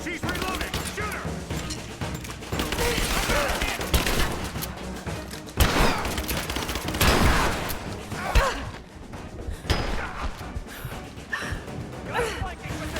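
Gunfire in the Rise of the Tomb Raider video game: dense, sustained volleys of shots and bursts with sharp impacts and crashes, loud and continuous throughout, with game character voices shouting over the firefight.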